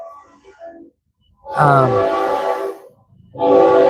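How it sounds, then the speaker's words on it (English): A train horn sounds as a train passes, two long, loud tonal blasts separated by a short gap, with a faint rumble underneath. "I gotta let this train go by."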